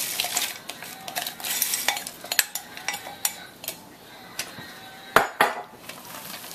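Peas and carrots are stirred into thick shepherd's pie filling in a pot off the heat, with soft scraping and repeated light clinks of a spoon against the pan, close and fairly quiet.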